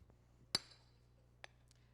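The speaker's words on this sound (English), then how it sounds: "So I get the hammer moving." A hammer strikes a heavy anvil held in the hand, one sharp ringing metallic clink that decays briefly, followed by a second lighter tap, over a quiet low hum.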